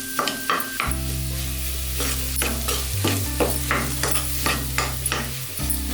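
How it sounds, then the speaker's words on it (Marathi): A spoon stirs potato bhaji for vada pav in a pan, with repeated scraping strokes over a soft sizzle, close and steady, and a steady electric hum beneath. "भाजी खूप परतायची नाहीये, आपल्याला फक्त ते सगळं एकजीव होण्यासाठी फक्त आपल्याला छान ढवळून घ्यायची आहे"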